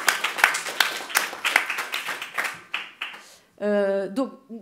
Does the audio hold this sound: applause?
yes